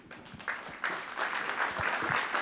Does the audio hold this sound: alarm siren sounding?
no